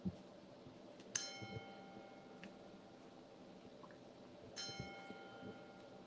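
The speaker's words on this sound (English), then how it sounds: "provide our sonic anchor with some chimes before we read" Chimes rung during a Sunday church gathering: two bright, ringing strikes a few seconds apart, each leaving a long shimmering decay over a quiet room.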